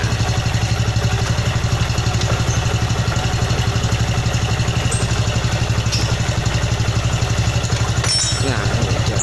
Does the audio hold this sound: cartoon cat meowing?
no